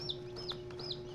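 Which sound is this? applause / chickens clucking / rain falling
chickens clucking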